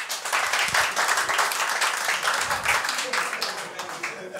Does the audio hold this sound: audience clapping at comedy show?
yes